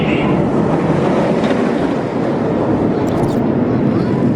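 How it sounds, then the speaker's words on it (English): An empty roller coaster train at Kings Dominion in Doswell, Virginia runs along its track in rainy weather, giving a loud, steady rumbling roar with a faint rattle near the end. "There goes the empty train."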